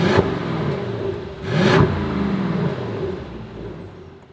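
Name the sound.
Mercedes-AMG S63 engine revving in Comfort mode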